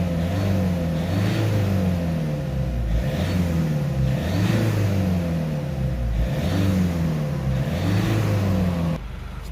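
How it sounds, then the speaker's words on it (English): Peugeot Boxer 2.0 diesel van engine surging up and down in a steady repeating cycle, revving by itself roughly every two seconds, close and loud, before settling near the end. "the vehicle's revving on its own now."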